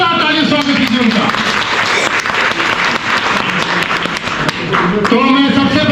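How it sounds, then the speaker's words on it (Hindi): Hearty applause from a gathered audience welcomes a retiring chief pharmacist at a farewell ceremony, a loud sustained burst of clapping, with a voice speaking at its start and end. "जोरदार ताली स्वागत कीजिए उनका।"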